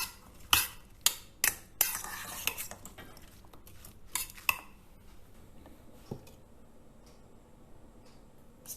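Salad of rice and lentils being tossed with utensils, a burst of quick metallic clinks and scrapes against a bowl that fades into a few light taps, close and fairly quiet with no talk.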